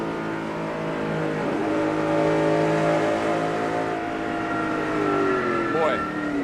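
Stock race cars circle Darlington Raceway in a 2009 race, a steady roar of many engines with rising and falling pitch sweeps as cars pass, loud and continuous, with commentators talking over it.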